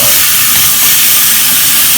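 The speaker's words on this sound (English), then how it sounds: "Now we're going to lay this guy right in and start searing him away" Meat for birria searing as it is laid into a hot pan: a loud, steady hiss of sizzling fat that fills the moment without pause.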